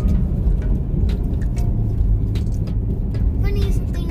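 Rain falling outdoors on a cold rainy day, a steady heavy wash with deep low rumbling, and people talking over it.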